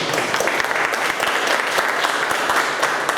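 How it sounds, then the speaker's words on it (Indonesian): An audience claps steadily at a Christian worship session, a dense, even applause filling the room throughout. "Kita berikan aplaus dulu Bapak Agung."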